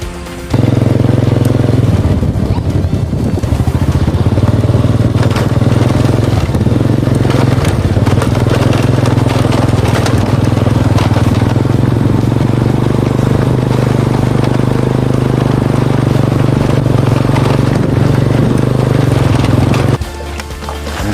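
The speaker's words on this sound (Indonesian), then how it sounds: "Kita bawa motor dulu ya teman-teman ya, karena motor saya di belakang ya." Motorcycle engine while riding uphill in Cilacap, a loud, close, continuous low drone with rough rumble and slight pitch shifts, steady for about twenty seconds before easing off at the end.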